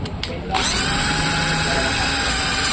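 After a couple of short taps, a power drill starts up and spins continuously at a high, steady whine, loud and close, cleaning grime from a rusty Shimano XT bicycle derailleur.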